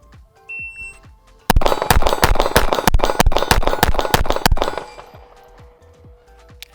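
A rapid string of pistol shots from a Smith & Wesson Bodyguard at an outdoor range, about a dozen loud, sharp cracks in quick succession, some with a faint ring of steel targets 30 yards downrange, then quiet.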